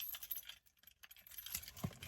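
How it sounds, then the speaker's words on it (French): Small key scraping and jangling against a parcel as it is cut open, a close, brief clatter of metal and packaging with no voice. "J'ai pas de quoi ouvrir, mais j'ai une petite clé."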